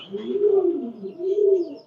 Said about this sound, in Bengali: এগুলো হেলমেট কবুতর